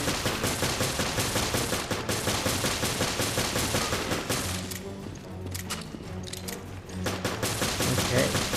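Rapid gunfire in Resident Evil Revelations, Abyss Raid Mode: a dense, loud stream of shots fired at an enemy, easing briefly in the middle before the heavy firing comes back.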